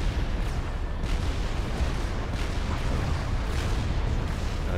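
Heavy cannon fire from large units in the Supreme Commander strategy game, heard as a dense, continuous roar of rumbling booms with no clear gaps, loud and close, with no talk over it.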